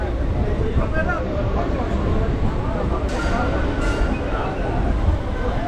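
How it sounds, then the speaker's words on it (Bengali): A passenger train on the Tamluk–Digha line near Nandakumar rumbles steadily from inside a near-empty carriage, a constant low roar with faint background voices throughout. "নন্দকুমার ট্রেন কিন্তু দারুণ চলছে একদম ফাঁকা ফাঁকা বেশ দারুণ কমফোর্টেবল জার্নি"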